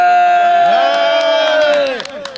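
A crowd at the Gabtoli cattle market cheers loudly late at night during the Qurbani sale, with one long, sustained roar of voices that fades slightly toward the end.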